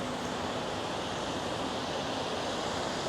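A park fountain at night in Toronto pours water in a steady, dense rushing wash that stays constant and fairly loud throughout, with no talking.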